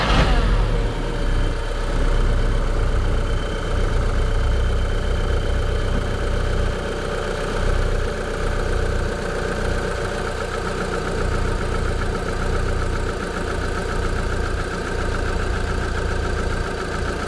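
A car engine idles at close range with a steady, rumbling drone, slightly uneven and rough, and no voices over it.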